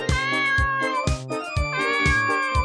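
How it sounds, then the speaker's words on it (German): Game cat in El Dorado 2 meowing over and over in a steady rhythm, its clear, loud, tonal calls laid over looping background music with no talk. "nur eine miauende Katze"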